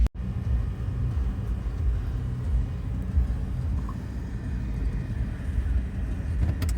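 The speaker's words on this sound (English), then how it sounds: "we're gonna take it for the first drive around the block" A 2003 Nissan Pathfinder R50 drives around the block after maintenance, its engine and road noise a steady low rumble heard from inside the cabin, with a brief thump at the start.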